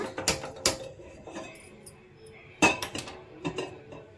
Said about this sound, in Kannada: ಈಗ ಸ್ಟೌವ್ನ ಆನ್ ಮಾಡಿಕೊಂಡು ಒಂದು ಪಾತ್ರೆ ಇಟ್ಕೊಳ್ಳೋಣ